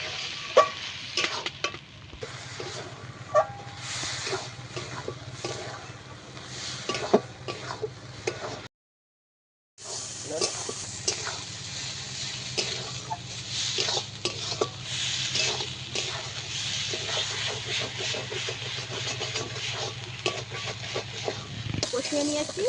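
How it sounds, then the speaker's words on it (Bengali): Crab masala with ground cumin stir-fried in a pan, with steady sizzling, scraping and clinking of a spatula against metal, a short pause midway, then continuous frying and stirring. "এবার সব কিছু ভালোভাবে কষিয়ে নেব।"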